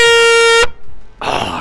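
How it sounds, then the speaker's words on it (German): A single loud, sustained air horn blast in the video game Split Fiction cuts off sharply after about half a second, followed by a short burst of noisy rustle. "Gute Tröte."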